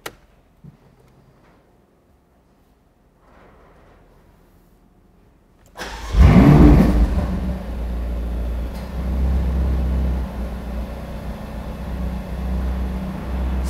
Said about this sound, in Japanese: ではエンジンを始動します。